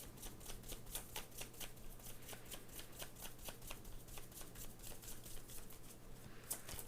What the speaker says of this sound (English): Look, you'll see me shuffling the cards right here.